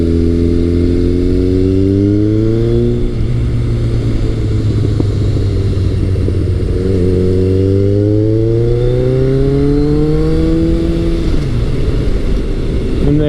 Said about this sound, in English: This bike is running a Two Brothers slip-on exhaust, so you can definitely hear it when you get on it